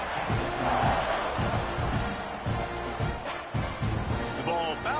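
Football stadium crowd roaring with a steady, dense wash of cheering and shouting, loud and continuous with rhythmic swells, as a kickoff sails toward the end zone.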